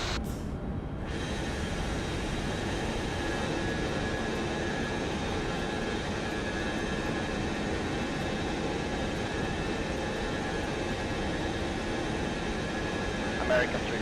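A Boeing 707 jet climbs after takeoff, heard as a loud, steady, unbroken engine roar and rushing airflow from inside the cockpit, unchanging throughout.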